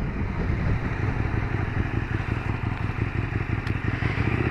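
A 2017 KTM Super Duke GT touring sport motorcycle is ridden steadily, giving a continuous low engine drone with wind rush at an even level throughout, with no voices.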